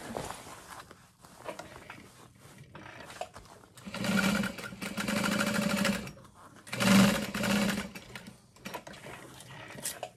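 Sewing machine stitching across the lining of a handbag, two bursts of steady mechanical whirring separated by a short pause, close and fairly loud over quieter handling noises.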